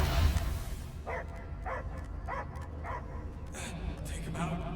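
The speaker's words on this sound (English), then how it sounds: "I hear only barking." Cosmo the dog barks in a Guardians of the Galaxy video game, a run of short repeated barks spaced about half a second apart over a low game soundtrack, with a voice speaking briefly.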